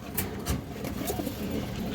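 A Putul Gorra pigeon coos in soft low repeated phrases close by, over a steady background hiss and noise from other pigeons.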